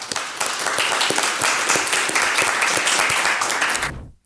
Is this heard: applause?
yes